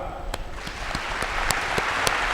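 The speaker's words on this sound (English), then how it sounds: "Let's clap." An audience at an annual education and leadership congress claps steadily in a hall: a dense patter of hands with a few sharper individual claps standing out, continuous for the whole stretch.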